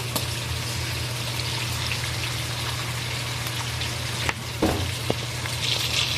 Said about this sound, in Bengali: এখন মশলা কষানোর জন্য পরিমাণ মতন পানি দিয়ে দিচ্ছি।